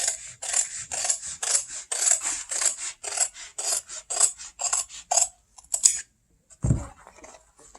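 Scissors snip through clear plastic boat window material in a quick, even run of about a dozen crisp cuts, close and distinct, followed by a pause and a low handling thump near the end.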